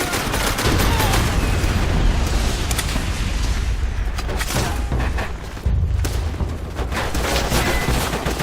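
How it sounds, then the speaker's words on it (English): Machine gun fire and explosions in a video game battle against Japanese bunkers, dense and continuous with booming blasts throughout and a shouted voice mixed in. "Japanese MG! I want suppressing fire on those MGs."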